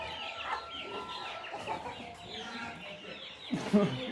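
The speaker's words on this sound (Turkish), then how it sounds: "burada şu tavukları kovalıyoruz" Several chickens cluck and chatter close by in a continuous, busy stream, with a louder squawk near the end.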